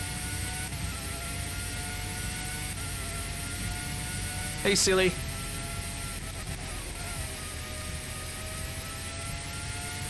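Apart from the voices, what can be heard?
Formula 1 race car engine from the PS1 video game Formula 1 97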